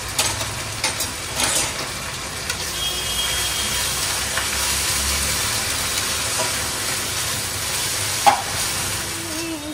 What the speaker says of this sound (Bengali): পেঁয়াজ ভাজা হয়ে গেল, আদা দিয়ে দিলাম